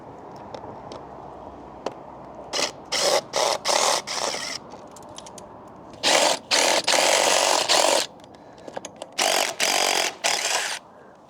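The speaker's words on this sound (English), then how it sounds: "now we'll take our 10mm socket with our handy DeWalt driver" A DeWalt cordless driver fitted with a 10mm socket whirs in repeated short bursts while backing bolts out of an e-bike seat, several quick spins early, then longer runs with brief pauses, close and loud against near silence.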